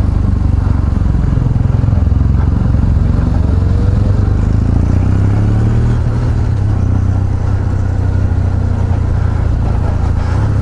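Kawasaki W800 motorcycle engine on a test ride, a steady loud low rumble with faint shifts in pitch as it runs, heard close throughout with no talk.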